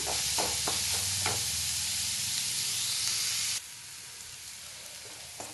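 Onions frying in a pan for palak paneer, a steady close sizzle and hiss with a few stirring clatters early on, dropping noticeably quieter partway through.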